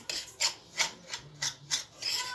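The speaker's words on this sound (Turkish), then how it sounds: "Hepsini bir karıştırdıktan sonra şöyle eziyorum." Keşkül milk pudding mixture being mashed and pressed in a pot, a series of short rhythmic scraping rasps, about six strokes in quick succession, faint and close with no talking.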